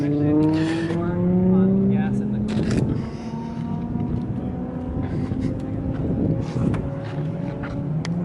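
Turbocharged 2JZ-engined drift car at an end-of-season drift event, its engine droning and climbing steadily through the whole stretch under crowd and wind noise, with a voice speaking partway through.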